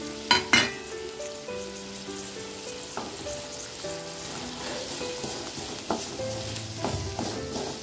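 Onions and ground masala fry for a mushroom kulambu, a steady close sizzle with clinks and scrapes of stirring in the pan, a few sharper knocks near the start.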